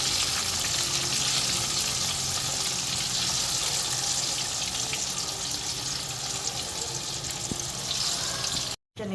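Pakoras frying in hot oil in a 100-year-old iron wok, a loud, steady, crackling sizzle that runs almost unbroken before a brief cut near the end.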